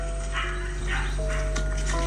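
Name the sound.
dog barking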